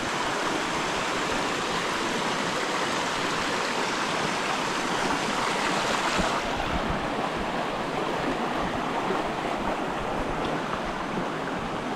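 A river swollen after two days of flooding rushes steadily and loudly throughout, a dense unbroken wash of flowing water with no voices.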